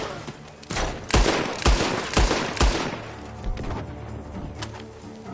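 Several loud gunshots crack in quick succession from a barn in Red Dead Redemption 2, sharp bursts with echoing tails, followed by scattered quieter shots.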